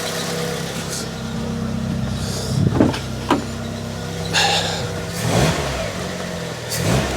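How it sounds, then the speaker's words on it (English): A former Cat N category car's engine idling with a steady hum, broken by several short revs that swell and fade, heard up close with no talking. "Should give it a bit of revs."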